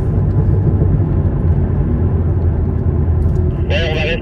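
Alpine A110 sports car driving on a snowy Lapland circuit, a steady low engine rumble from inside the cabin throughout, with a brief higher whine near the end.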